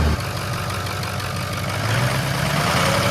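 A Ford 6.0 Powerstroke diesel engine idles in a white dually pickup, giving a steady, close, low rumble that holds an even tone with no revving.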